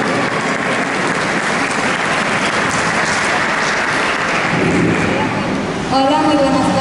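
Audience applauding at an awards gala night, a steady broadband wash of clapping that carries throughout, growing slightly louder near the end as other sounds join.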